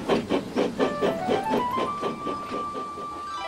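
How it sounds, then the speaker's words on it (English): Rhythmic steam-engine chuffs from a Thomas & Friends tank engine puff steadily and close, with a sustained whistle-like tone rising and holding beneath the beat. "Edward picked up steam and proudly puffed past Spencer."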